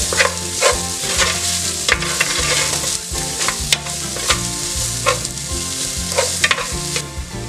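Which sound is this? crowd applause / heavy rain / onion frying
onion frying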